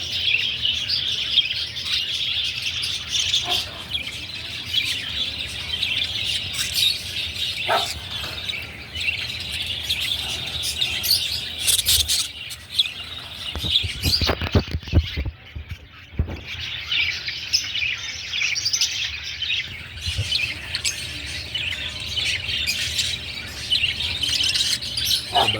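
Pet birds in a breeding aviary chirp and tweet continuously at moderate distance, with scattered sharper squawks and a brief burst of clatter midway.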